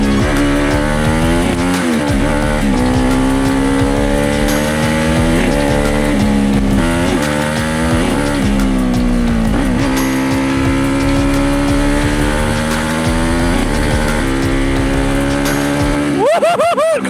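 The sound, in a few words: 100 hp supermoto motorcycle riding and braking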